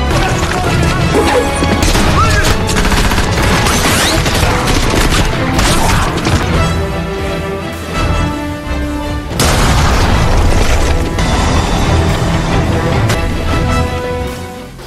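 Dense war-film mix of booming explosions, gunfire and crashing impacts over driving music, loud and continuous with a brief dip midway.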